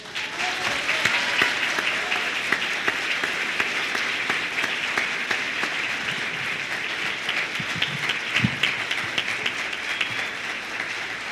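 An audience at a drug policy forum applauds a doctor after his talk, a full, continuous round of many hands clapping with occasional louder claps poking through, steady throughout.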